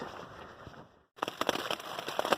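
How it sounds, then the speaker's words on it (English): Rain from a storm patters steadily and faintly on a trail camp at night, then breaks off briefly before returning as a denser, crackling drumming. "As you can probably tell, it is raining out. We're in the middle of a storm right now"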